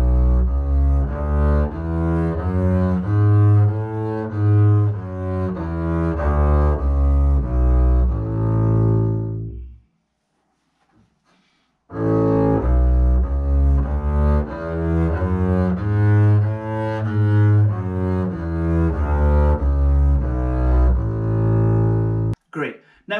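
A double bass plays scales in third and half position, bowed notes rising and falling in a steady, even sequence, close and clear, in two passages with a short silence between them.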